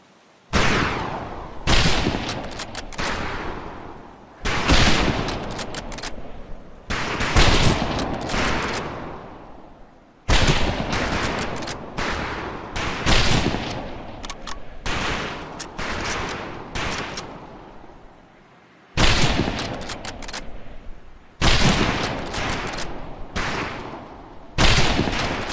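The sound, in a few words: rifle range gunfire in Medal of Honor: Pacific Assault video game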